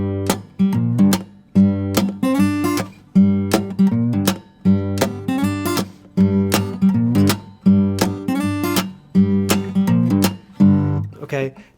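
Electric guitar plays an opening blues riff, a repeating pattern of strummed chord stabs with short gaps between phrases, loud and close with no voice over it.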